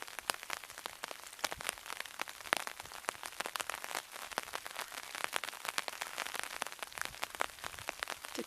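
Steady rain patters on an umbrella outdoors on a wet day, a dense crackle of close drops with frequent sharper taps, even and continuous with no voices.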